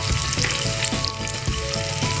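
Garlic fries with onions in a pan, giving a loud, dense, continuous sizzle with a few soft stirring scrapes, close up and without any talking.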